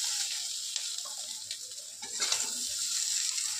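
Flat beans (sim) fry in hot oil in a pan, a steady bright sizzle with a few soft stirring scrapes and clinks, close and continuous.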